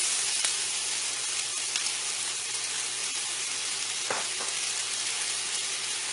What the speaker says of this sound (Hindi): साथ ही हमने प्याज डाल देना है, मीडियम साइज का एक बारीक चॉप किया हुआ।